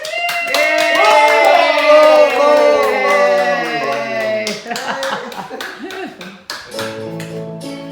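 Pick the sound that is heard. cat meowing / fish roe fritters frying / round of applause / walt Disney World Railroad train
round of applause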